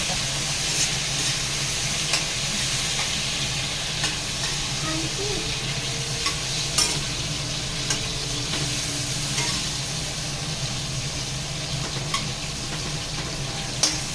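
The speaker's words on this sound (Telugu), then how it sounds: "ఇది బాగా వేగాలి, గుజ్జులాగా అవ్వాలి" Tomatoes fry in a pan for chutney with a steady, close sizzle, joined by occasional soft clicks and scrapes of stirring, and no talking.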